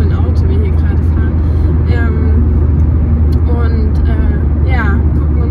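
Heard from inside a car on a test drive, a steady low engine and road rumble drones continuously while people talk over it in the cabin.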